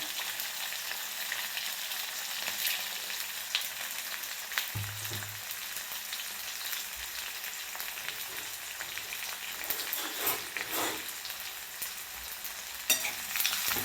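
Chopped onion and green chillies fry in hot oil for poha, a steady close sizzle with occasional soft stirring scrapes and no talking.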